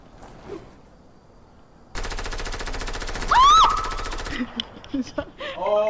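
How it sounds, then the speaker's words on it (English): Rapid automatic gunfire from a Fortnite match rattles out in one dense, sustained burst lasting a couple of seconds, loud and close, with brief game sounds and a voice around it. "I hear gunfire."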